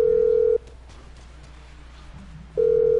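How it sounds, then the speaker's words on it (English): A phone call placed in a video game, probably GTA Online: a loud steady ringback tone sounds, falls silent for two seconds of quiet background, then sounds again, with no talk. "So then you go to your phone, go to Meriwether"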